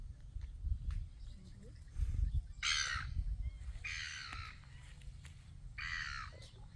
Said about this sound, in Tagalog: maraming mga ibon dito oh